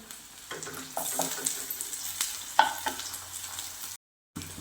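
Tomatoes and onion sizzle as they are sautéed together in a pan for a masala okra dish, a close steady frying hiss with irregular spatula scrapes, briefly cutting to silence before resuming.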